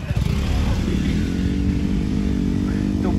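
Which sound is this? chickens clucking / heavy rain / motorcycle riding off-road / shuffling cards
motorcycle riding off-road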